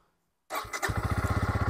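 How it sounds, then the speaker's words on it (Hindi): A 2024 updated Bajaj Pulsar N150 motorcycle starts up close by: a short crank catches, then the engine settles into a steady, evenly pulsing idle with no voices. "लेकिन जैसे ही बाइक को स्टार्ट करोगे ना"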